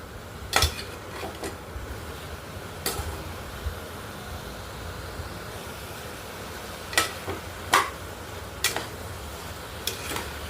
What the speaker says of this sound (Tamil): அரிசியை சேர்த்து நல்லா ஒரு கிளறி விட்டுருங்க.